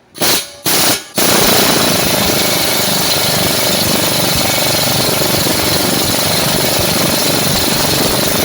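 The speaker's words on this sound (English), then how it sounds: "It's a 17mm. I like to use an impact." Impact wrench on the 17mm tie rod end nut of a Ford Fusion: two short bursts of rapid hammering, then one long, loud continuous rattling run, close up and with no talking.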